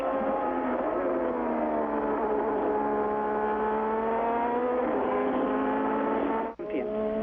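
A 1987 Formula 1 car's 1.5-litre turbocharged engine, making about 850 horsepower at the Belgian Grand Prix, screams in a loud, steady, high-pitched whine with slowly shifting pitch, briefly cutting out near the end.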